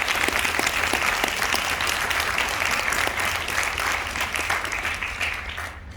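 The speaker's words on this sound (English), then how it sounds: "And I want to start by giving a big round of applause to all of you guys." An audience at a school talk breaks into sustained applause, dense and steady throughout before easing slightly toward the end, with no voices over it.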